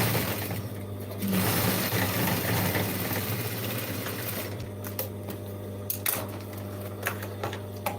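A sewing machine stitches a denim jeans bag, its steady mechanical whir and rapid needle clatter running nearly continuously at close range, with a few sharp clicks near the end.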